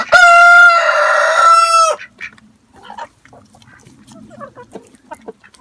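A loud rooster crow rings out first, then softer scattered chicken clucks and scratching sounds follow nearby.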